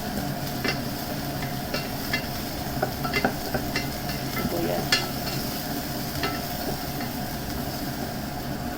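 Onion sautés with garlic in a pan for a pork rib soup, a continuous sizzle with scattered sharp clicks and scrapes of a utensil against the pan at irregular intervals, no talking.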